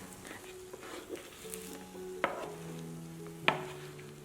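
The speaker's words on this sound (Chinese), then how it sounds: "卷好之后我们再烙一下，" A peanut and glutinous rice pancake pan-fries with a soft, quiet sizzle, broken by light clinks and two sharp taps of chopsticks or a spatula against the pan.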